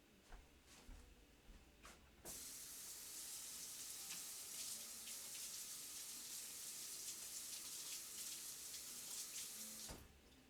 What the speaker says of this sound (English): I'm going to rinse my knife off.